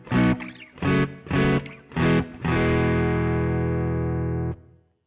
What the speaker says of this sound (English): Now it sounds like I'm playing an amp in a real room.